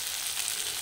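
Spices with turmeric and salt sautéing in a pan, giving a steady, close sizzle and hiss with no voices.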